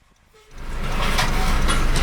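A CSX freight train crosses State Road 37 over a dip in the tracks on the Bone Valley phosphate line, rising from quiet into a loud, sustained close rumble with rattling wheel noise.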